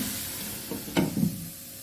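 Mixed vegetables for a Kerala thoran being stirred in a pan, a faint steady sizzle broken by a couple of brief scraping strokes near the middle, with no talking.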